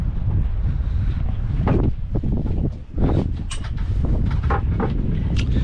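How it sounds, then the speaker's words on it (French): Small swell waves slapping against the hull of a sailboat taking them head-on, with strong wind buffeting the microphone throughout and a few splashes rising above the rush. "je prends quand même les vagues, enfin la petite houle qui rentre de face"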